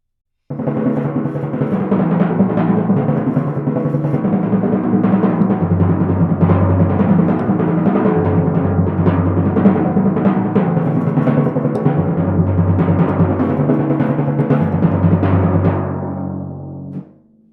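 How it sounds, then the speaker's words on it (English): Sustained timpani rolls in half notes rumble steadily, alternating between two pitched drums, with no talking, fading out at the end. "Simply play half-note rolls and alternate between these two drums"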